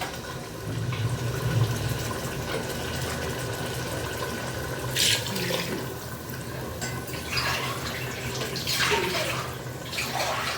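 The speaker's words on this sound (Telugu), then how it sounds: "నేను 7 గ్లాసుల నీళ్ళు ఇంకా కొబ్బరి పాలు పోస్తున్నానండి." Water and coconut milk pour into a cooking pot for Telangana-style coconut rice, a continuous close splashing gush lasting about ten seconds with brief louder surges.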